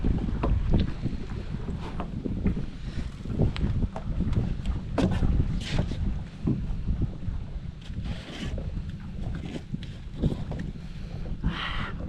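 Gusty wind buffeting a boat on the water, with a low rumbling roar, intermittent knocks and creaks, close and fairly quiet.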